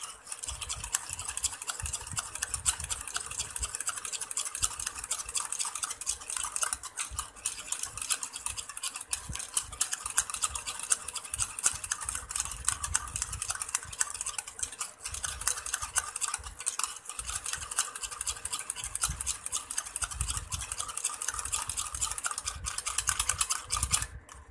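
Egg and tomato face mask mixed by hand in a bowl, a continuous wet squelching and sloshing churn that runs steadily and closely for the whole stretch, with no voices.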